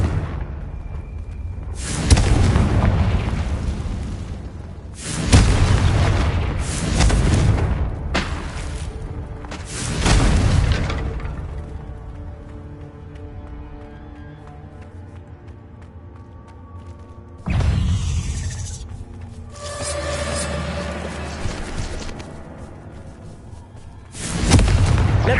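Confringo explosion spells in the Hogwarts Legacy video game burst out as several loud, booming blasts in quick succession, each trailing into a rumbling decay amid ongoing combat effects.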